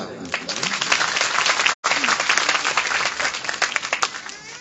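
A crowd at a Shiv katha religious discourse in Bilaspur, Yamunanagar, Haryana claps loudly and continuously, with a brief dropout partway through and voices faintly audible within the applause.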